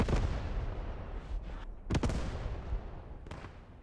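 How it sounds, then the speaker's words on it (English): Artillery fire in the World War II shooter Post Scriptum, a rumbling barrage of booms with several sharp nearby blasts standing out over a continuous roar of distant explosions. "Very well-placed artillery delays the Germans even more."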